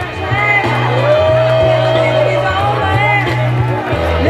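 A loud, near crowd cheers, whoops and shouts over thumping dance music at the Fire Island Pines Invasion as arrivals come off the boat, with clapping lost in the steady wash of voices.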